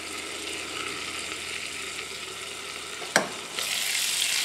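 Eggs fry in a hot pan with a steady, close hiss of sizzling, broken by a sharp clatter of a spatula before the sizzle swells louder.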